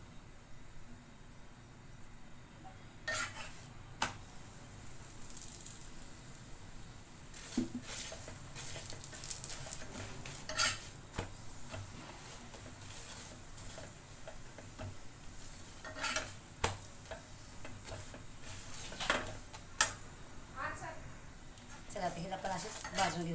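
Chapati cooking with oil on a pan and being flipped, with repeated clinks and scrapes of utensils against the pan over a faint sizzle, spread irregularly through the stretch with some quiet background voice.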